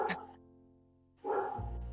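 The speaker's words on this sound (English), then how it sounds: "By the way, that in the background is it's one of my dogs." A dog barks in the background, two short muffled bursts about a second apart, with a soft indoor hum between them.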